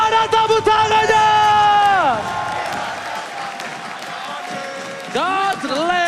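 An esports arena crowd at the MPL ID Season 10 playoffs, RRQ Hoshi versus ONIC, claps and cheers loudly, its roar mixed with sustained tonal voices or music that swell, dip and return near the end.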